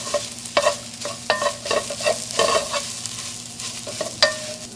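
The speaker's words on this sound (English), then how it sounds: "cooking the tomato paste will just cook the raw tomato flavor out of it" Tomato paste cooking in a pan for a vegetarian bolognese, a close sizzle under repeated scraping strokes of a utensil stirring across the pan bottom, no talking.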